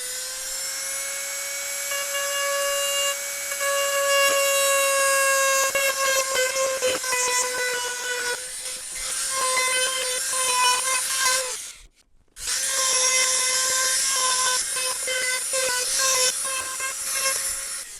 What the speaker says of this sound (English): it's time to grind out a groove here where the two cracked faces meet